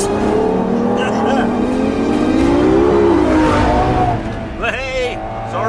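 A Ferrari LaFerrari hybrid supercar engine revs loud and near, its pitch climbing steadily before easing off, with excited voices partly over it.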